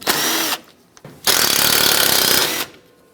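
An impact tool rattles loudly in two bursts, a short one and then a longer one, removing 10mm bolts along the top of the grille on a 2007-2014 Chevrolet Silverado 2500HD, with quiet gaps between.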